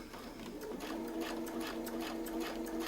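Sewing machine stitching a quilting block with Westalee Design rulers, a close, steady rapid mechanical whirr with even needle beats throughout.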